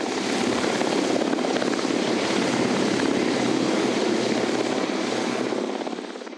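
A rescue helicopter hovers overhead during a rooftop rescue in the 2004 Boscastle floods, roaring loudly and steadily, its rotor noise constant and close throughout.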